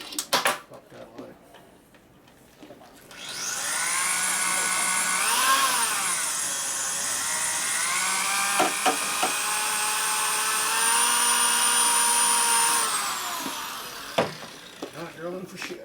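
A drill runs with a sustained high whine, its pitch wavering as it bears down on a hard metal bolt on a 2001 Gilroy Indian motorcycle, bracketed by clicks and clanks of handling.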